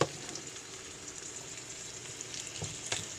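Bone-in lamb loin chops sizzling in a pan, a soft, even frying crackle throughout with a few louder pops near the end.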